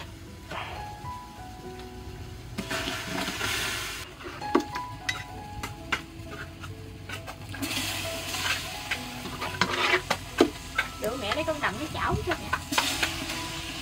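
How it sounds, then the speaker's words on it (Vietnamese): Beef is scooped into a cooking pot for braised beef stew and stirred, giving soft sizzling, metal utensil scrapes and clanks on the pot, with people talking intermittently around it. "Rồi bây giờ mình xúc thịt bò, mình bỏ vô đây nấu."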